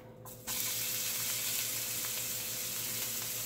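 Scallions drop into hot oil in a pan and burst into a loud, steady close sizzle that carries on unbroken, with no voices.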